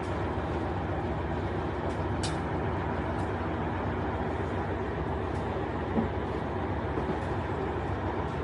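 A train at a railway station in Sungai Golok, Thailand, gives a steady, loud rumbling roar with hissing noise throughout, broken only by a few faint clanks.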